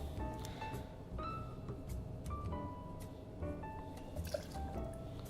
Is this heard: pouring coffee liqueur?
yes